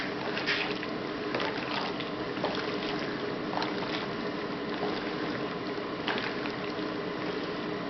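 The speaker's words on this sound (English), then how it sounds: "Just give it, stir it up. Get that brine coated all over it" Deer meat being stirred by hand in brine for jerky, wet squelching and sloshing liquid sounds with repeated soft splashes as the meat is turned, close and steady.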